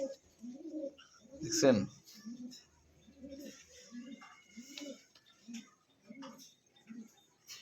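A pigeon offered for sale coos in a steady rhythm of low, evenly spaced calls, close by, with a short burst of talk and a sharper flutter early on.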